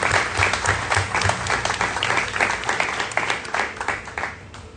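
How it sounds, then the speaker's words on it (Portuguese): A church congregation in worship applauds, a loud, dense and sustained round of clapping from many people with a faint low hum running underneath. "aplauda o Senhor em nome de Jesus"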